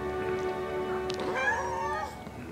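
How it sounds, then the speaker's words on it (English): Cats meow in the video game Final Fantasy 7 Remake, a few short rising and falling mews over a steady background hum and game music, close and moderately loud. "Hey, cool cast of kittens."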